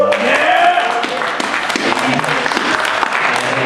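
A convention panel audience applauding, with steady dense clapping held at an even level throughout and some crowd voices mixed into it.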